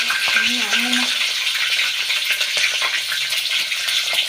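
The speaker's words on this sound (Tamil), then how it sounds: "பச்சை மிளகாய் பொரிச்சுங்கப்பா" Green chilies and onion fry with fennel and mustard seeds in hot oil for a dried fish thokku, a loud continuous sizzle and crackle heard up close, with a brief voice near the start.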